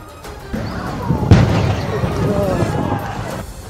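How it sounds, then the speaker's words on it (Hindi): A gas station on fire explodes in a loud, sudden blast, followed by a sustained roaring rumble, with voices mixed into the commotion. "उस गैस स्टेशन पर लगी आग के बीच अचानक जोरदार ब्लास्ट होता दिखाई दिया"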